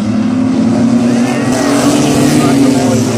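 Mini trucks racing at Midvale Speedway, engines droning loudly and steadily throughout with a rising whine as they pass, while an announcer speaks over the noise.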